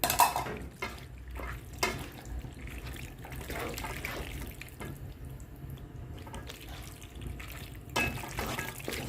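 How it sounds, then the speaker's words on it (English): Dry pasta pours into a pot of water for lobster mac and cheese, with a steady sloshing and trickling wash broken by a few sharper splashes and rattles. "So now I'm going to add my pasta."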